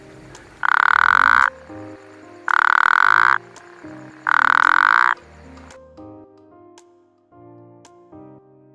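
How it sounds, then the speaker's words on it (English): Frogs in the Omani desert give three loud, evenly spaced croaking calls, each lasting close to a second. A quieter background of softer calls and other ambient sound continues between and after them. "even frogs in the middle of the desert"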